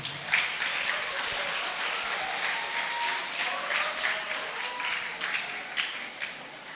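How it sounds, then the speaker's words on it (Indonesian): Audience applause at an Islamic lecture, the GULALI study session with Ustadz Handy Bonny, a steady, moderately faint roll of many hands clapping that holds evenly throughout. "Tepuk tangan dulu."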